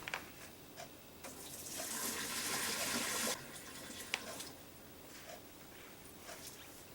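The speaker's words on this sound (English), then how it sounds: "let me get rid of some of this water because we have way too much water in here." Excess water is poured off a pot of cooked fresh cauliflower, a soft splashing gush that swells for about two seconds and stops, with small clinks and drips around it, quiet and close.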